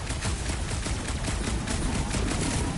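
Rapid gunfire in the Guardians of the Galaxy game, a dense burst of repeated shots running steadily through the whole stretch at fairly low level, with no voices.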